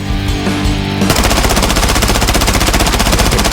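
Sustained automatic weapon fire sprayed in a long burst in the shooter game Blood Strike, with a short mechanical lead-in and then rapid, steady, loud shots running continuously to the end.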